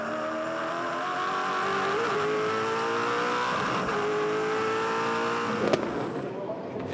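V8 Supercars race at the 2006 Perth 400, engines roaring loudly and climbing in pitch as they accelerate, with a sharp mechanical crack near the end and commentary running over the noise.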